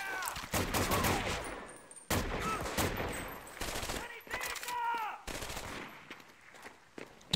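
Dense bursts of machine gun fire and rapid gunshots from the Medal of Honor: Vanguard video game come in several loud volleys with short gaps, mixed with game sound effects.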